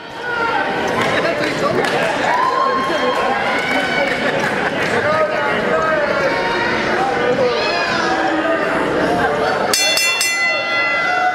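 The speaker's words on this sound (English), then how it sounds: "we silently waited for the sound of the bell there, respecting the referee's start of the match" A ring bell for the start of a professional wrestling match in a gym rings out near the end, its ringing tones cutting through steady crowd noise and chatter.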